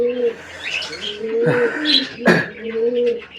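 Pigeons at a morning feeding coo in soft, repeated throaty phrases, with a brief flutter or scuffle between calls. The birds sound close and steady throughout.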